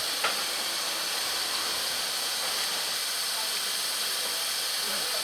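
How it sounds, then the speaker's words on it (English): A steam locomotive on the Gloucester and Warwickshire Steam Railway builds up a head of steam before departure, producing a steady, even hiss with a faint brief click near the start and no voices. "stoking up the fire and building up a head of steam ahead of departure time"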